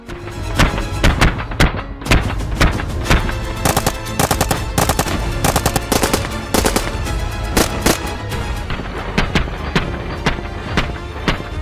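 Rapid automatic rifle fire from the STALKER video game, loud dense bursts of sharp cracking shots in fast rhythmic succession, continuous throughout with no talk.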